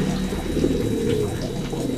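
A songbird bought cheaply at a bird market calls steadily and up close, a soft cooing-like voice over a constant low background hum with no talking.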